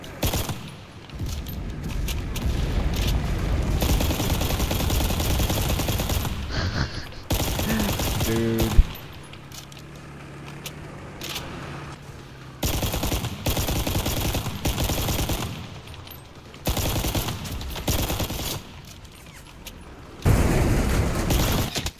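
Heavy 37mm cannon on a LaGG-3-34 fighter plane in an air combat game, firing in loud sustained bursts amid engine roar, with gaps of quieter flight between volleys and a sharp boom near the middle.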